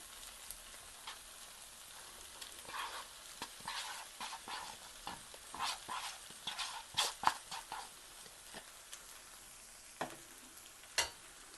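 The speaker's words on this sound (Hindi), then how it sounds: "अब हम इसमें सिर्फ चावल ऐड करेंगे और थोड़ी देर पकाएंगे" Rice stir-frying with egg and vegetables in a pan at medium flame, faint sizzling under irregular scrapes and knocks of a spatula stirring, with no voices.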